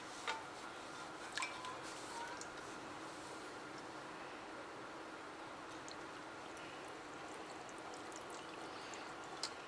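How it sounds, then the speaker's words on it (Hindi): Milk poured over fried bread slices in a tray for shahi tukray makes a steady, faint liquid wash throughout, with a few light ticks and clinks near the start. "ये हम दूध इसके ऊपर डाल देते हैं।"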